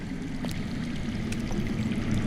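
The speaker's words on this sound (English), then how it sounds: "That's water. I hear water. From underground." Underground water flowing in a Game of Thrones video game, a steady low rushing murmur that is faint and continuous, with a few soft clicks on top and no speech.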